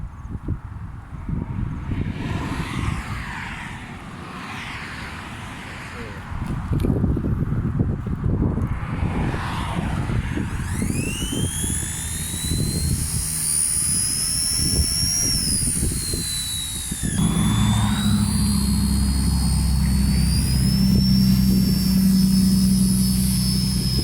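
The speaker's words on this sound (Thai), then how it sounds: "เพราะว่ากำลังของมันนะครับมอเตอร์มันแรงมากนะฮะ ฟังเสียงนี่" The electric motor of an XK K124 EC145 remote-control helicopter whines loudly outdoors in wind, rising in pitch as it spins up and holding a strong steady buzz with gusty rumble underneath.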